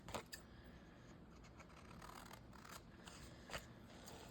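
Scissors snip through thin paper on a craft table, a few soft crisp cuts and rustles at close range over a quiet background hiss.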